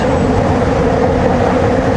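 Sky train in Kuala Lumpur passes with a loud, steady rumbling roar of wheels and carriages, close and unbroken, with no talking.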